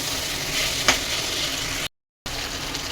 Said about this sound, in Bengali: এখন আমি সেই ভাজা পটল আলু আর ডাঁটাটা দিয়েও কষাবো ভালো করে